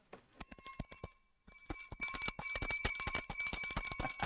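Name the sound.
small bell ringing, show's bell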